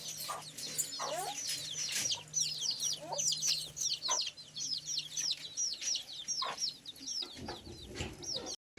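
Chickens cluck and chirp in quick, busy bursts throughout, close by a goat, with a faint steady hum underneath and no one speaking.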